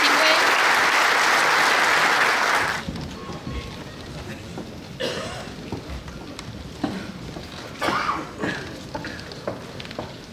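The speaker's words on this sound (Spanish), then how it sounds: "un aplauso para ustedes también" A crowd at a union meeting in Uruguay breaks into loud, sustained applause for nearly three seconds before it cuts off, leaving a murmuring hall with scattered knocks and speech.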